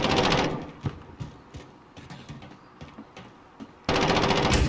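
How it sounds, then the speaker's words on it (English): AA-12 automatic shotgun fired full auto in a video game, a loud dense burst at the start and another at the end, with scattered individual shots and clatter in between. "And you can fire this thing full auto, obviously."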